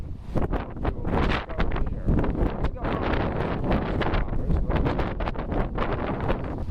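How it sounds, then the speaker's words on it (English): Gusty wind across a rooftop garden deck at the edge of a building at Kukui Plaza, Honolulu, buffets the microphone with loud, uneven rumbling, drowning out the surroundings. "This part is kind of windy many times because it catches the edge of the building."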